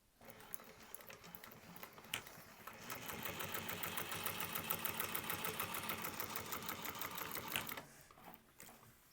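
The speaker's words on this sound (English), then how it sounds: "So we're top stitching through the bottom piece." A sewing machine top stitches through the bottom piece of a bag, its fast even needle chatter starting after a few quiet seconds, running steadily near and loud, then stopping before the end.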